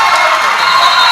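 Home crowd in a gym cheering at a girls' high school basketball semifinal, Mater Dei versus 'Iolani, a steady continuous roar of voices filling the short moment without pauses.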